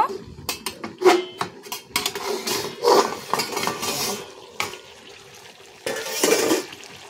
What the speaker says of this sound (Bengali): এটাকেও ভালো করে নাড়াচাড়া করে সামান্য কিছুক্ষণের জন্য এটাকে ঢাকা দিয়ে রেখে দেব